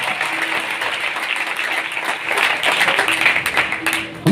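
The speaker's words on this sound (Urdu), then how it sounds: "ہم یسوع مسیح کے لیے تالیاں بجا رہے ہیں." Applause from a church congregation during a Palm Sunday service, steady dense clapping throughout that swells louder in the second half, with faint voices mixed in.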